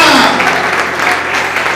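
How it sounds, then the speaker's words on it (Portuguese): Congregation applause during a church sermon, a short, loud, continuous burst of clapping lasting under two seconds. "Bota palmas. Bota palmas."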